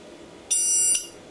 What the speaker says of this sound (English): getting a hold of a triangle